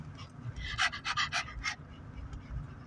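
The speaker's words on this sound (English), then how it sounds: "When we play, that's her talking. That's how Stella talks" A dog on a beach outing pants excitedly in quick, breathy bursts, close and clear, with short rapid clusters of breaths over a quiet background.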